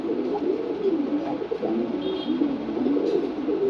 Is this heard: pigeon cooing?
yes